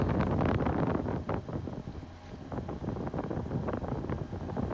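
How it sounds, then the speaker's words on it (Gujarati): Strong wind sweeps across hillside tea gardens in Munnar, buffeting the microphone with loud, continuous rumbling gusts that ease briefly midway before building again, with no voices. "પવન ફૂલ છે"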